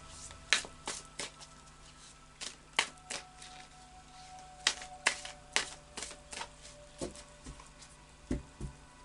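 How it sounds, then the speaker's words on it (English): Anna K Tarot cards being shuffled by hand, close and quiet, with irregular bursts of sharp card snaps and taps spread through a near-silent stretch. "So I'll just do a final shuffle now of the Anna K"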